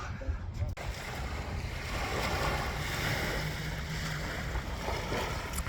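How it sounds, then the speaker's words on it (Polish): Steady broadband wash of sea waves along a shoreline in Kuwait, with wind buffeting the microphone and surf rolling continuously at moderate loudness throughout. "jesteśmy nad morzem"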